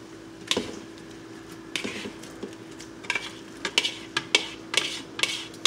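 Pulsed tomato and onion go into a pan for pasta pomodoro and get stirred, giving soft irregular clinks and scrapes of a utensil against cookware that grow more frequent toward the end over a faint, steady background hum.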